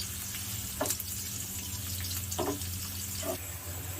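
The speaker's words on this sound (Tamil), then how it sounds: "ஆனியன்ஸ் நல்லா நம்மளுக்கு இப்போது வதங்கணும்" Sliced onions sauté quietly in a pan with a soft, even frying hiss and a few light stirring clicks at spaced intervals, set against a low background hum.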